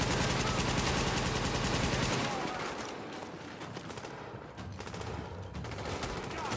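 Rapid automatic gunfire during a firefight in The Division, a loud, dense burst for about two seconds that then thins into scattered, more distant shots.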